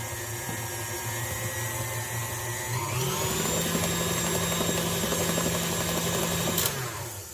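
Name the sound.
mixer mixing blueberry muffin batter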